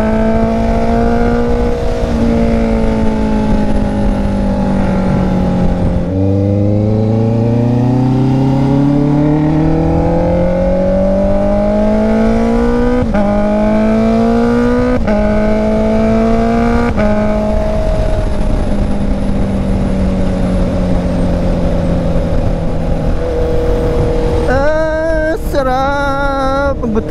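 A Honda CB650R motorcycle being ridden, with its engine note rising and falling through repeated revs and gear changes, loud and close over steady wind rush for the whole stretch. A brief voice is heard near the end.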